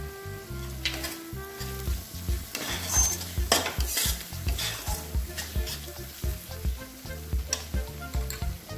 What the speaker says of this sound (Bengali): রসুনের একটা রস স্মেল থাকে, সেটা চলে যাওয়া পর্যন্ত একটু নেড়ে নিচ্ছি।